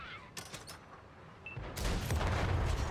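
A heavy tank cannon shot rings out in World of Tanks aimed at an enemy Škoda T 45's top plate, a loud booming blast with a rumbling tail after a quieter stretch of faint battlefield noise.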